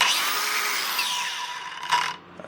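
A cordless Milwaukee M18 Fuel six-inch angle grinder whines at high speed, then its brake kicks in and the motor spins down abruptly to near silence within about two seconds, close and loud.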